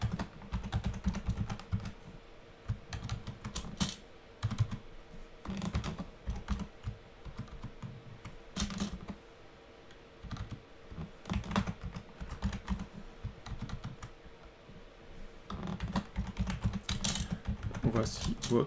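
Computer keyboard keys clicked in quick irregular bursts while an email is typed, close and fairly quiet, with a person talking over part of it.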